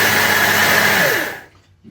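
An electric grinder whirs loudly while milling seeds for homemade crackers, a continuous high motor roar that winds down and cuts off near the end.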